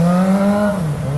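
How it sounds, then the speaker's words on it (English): A motorcycle passes on a Long Beach street, its engine note loud and close, a strong tonal whine that drops in pitch as it goes by within about a second. "Oh, look, a motorcycle with a working headlight, but it's not mine."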